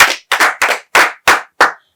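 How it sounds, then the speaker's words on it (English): Six sharp, evenly spaced claps from a small group of secondary school students applauding themselves at a quiz contest, crisp and close, with no talking. "Clap for yourselves, students."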